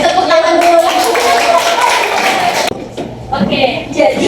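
Classroom clapping from a group of students, a dense burst of overlapping claps that fills the first few seconds and then thins into scattered claps and voices.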